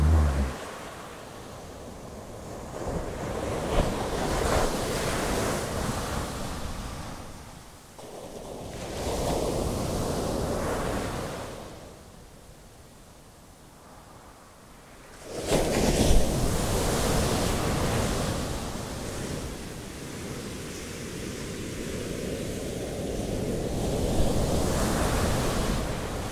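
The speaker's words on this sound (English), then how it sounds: "Just allow yourself to gently fall asleep to the restful sounds of the waves." Ocean waves roll onto the shore in broad, rushing surges that rise and ebb over long cycles, with one quieter lull midway before the surf swells again.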